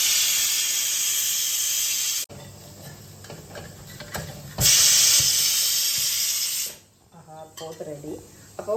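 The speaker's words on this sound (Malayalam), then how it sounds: "കുക്കറിൻ്റെ എയർ ഒന്ന് പോയിട്ടുണ്ട് നമുക്ക് ഓപ്പൺ ചെയ്യാം" A pressure cooker holding beef in a home kitchen lets out loud, continuous steam hiss that cuts off abruptly, resumes in a second strong burst, then fades, with a voice briefly heard near the end.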